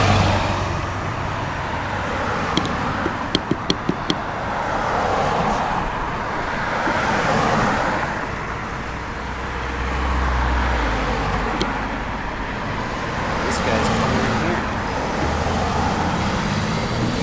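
A BMW car passing on a road amid steady traffic noise, a broad whooshing swell of tyres and engine rising and fading over a continuous roadway hum, with a few faint clicks.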